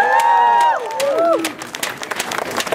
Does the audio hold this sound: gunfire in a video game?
no